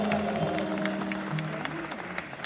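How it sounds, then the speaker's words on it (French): Wedding guests applaud at a religious wedding ceremony at Chateau Alan in Atlanta, a steady patter of clapping over faint tonal background sound, fading slightly toward the end. "Alors on applaudit tous ensemble très fort."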